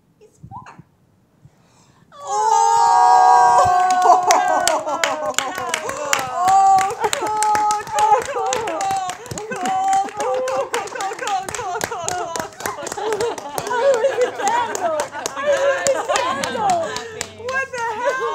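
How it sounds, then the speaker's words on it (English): An audience bursts into applause after a short quiet start, with dense, steady clapping mixed with whoops and cheering voices that keep going for over fifteen seconds. "Audience is cheering"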